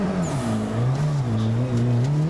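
A car engine revs hard and continuously while drifting, its pitch climbing, dipping and surging again in a loud, close drone with faint tire noise.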